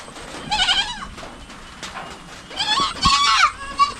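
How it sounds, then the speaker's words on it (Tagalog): Adult goats and their young kids, hungry for milk, bleat loudly nearby in two wavering bursts with a short lull between them. "Yung mga anak nila yan,"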